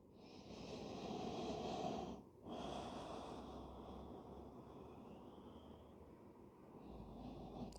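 Deep, slow breathing during a yoga session, one long audible breath that breaks off briefly and then continues steady and close, with no talking.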